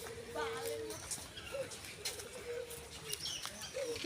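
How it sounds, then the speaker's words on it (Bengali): Pigeons coo softly in short, intermittent calls at a park beside Durgasagar pond, half buried in a steady outdoor background hum. "এই যে কবুতর আর অন্যান্য কিছু আছে।"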